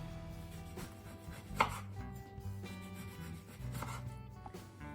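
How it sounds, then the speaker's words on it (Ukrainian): A knife slices oranges, lemons and limes on a board for caramelized fruit, giving steady soft cutting strokes with one sharper knock midway, close and moderately loud over a faint background hum. "Наші цитрусові нарізаємо апельсинчики 5-6 мм, лимони, лайми дрібніше 2-3 мм"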